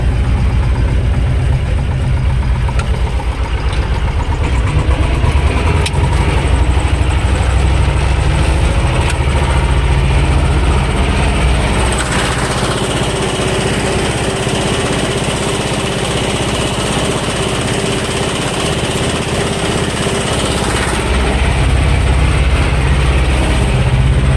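A T-25 tractor engine drones steadily and loudly while it pulls a disc harrow over a field before plowing, a continuous low rumble with a slight shift in tone midway and no voices.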